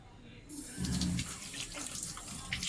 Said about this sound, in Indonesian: Pertama, kita buka keran